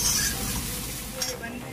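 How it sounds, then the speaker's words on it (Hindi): Poha with onion and peanuts cooking in a pan, a close steady sizzle with stirring scrapes of a spoon, heard alone for a brief moment. "तो ये मेरे बन रहे हैं पोहे, मेरे मेरे पास सभी वेजिटेबल्स ख़त्म हो गए, तो सिर्फ मैंने प्याज और पीनट्स डाल के बनाए"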